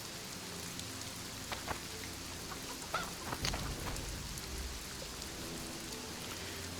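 Steady rainfall hisses in The Witcher 2, an even, dense patter with scattered heavier drops and a low rumble partway through, moderately quiet and without voices.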